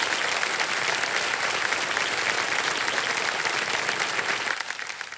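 Studio audience on the KBC game show applauding loudly and steadily, dense continuous clapping that tapers off slightly at the end.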